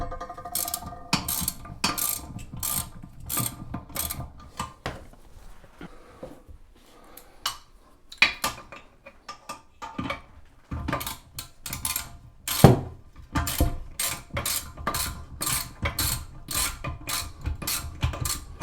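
Metal wrench clicks and ratchets against toilet tank bolts in quick rhythmic bursts, close and fairly loud, with a short quieter pause midway before the rapid clicking resumes.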